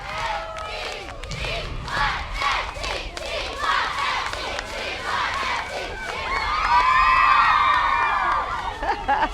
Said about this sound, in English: how about the CYSC All-Star Cheerleading Squad? Let's listen to them cheer.